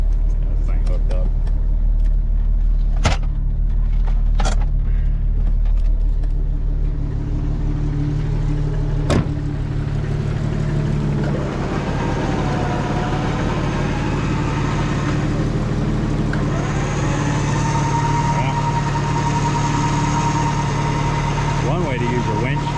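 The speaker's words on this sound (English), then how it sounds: "Trying to pull in the Jeep." The engine of a Jeep XJ runs with a low steady idle and a few sharp clanks early on. It carries on under talk as the Jeep is pulled in.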